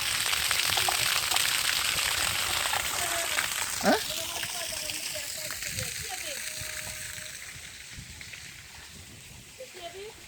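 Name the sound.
water gushing out of a tree trunk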